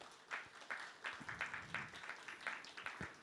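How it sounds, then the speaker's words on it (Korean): A church congregation gives a faint, distant round of clapping for its officers, light irregular claps continuing steadily throughout. "우리 박수 한번 보내주시겠어요?"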